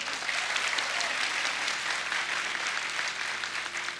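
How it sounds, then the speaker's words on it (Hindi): An audience at a comedy show applauds producer Ratan Jain with sustained, dense clapping that stays loud and even throughout. "तालियां"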